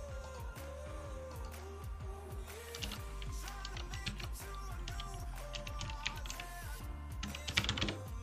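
Computer keyboard typing at a desk, a steady run of quick soft clicks with brief pauses and a few louder key strikes near the end, set over a low background hum.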